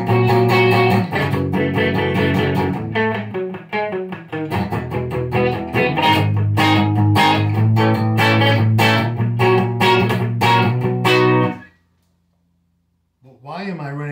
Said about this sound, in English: this is in the center position, both pickups running at once